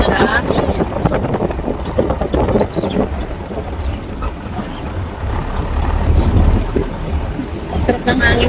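Wind buffets the microphone during a 4x4 ride past the rock formations of Mount Pinatubo, a continuous rough roar mixed with the vehicle's rumble while people talk.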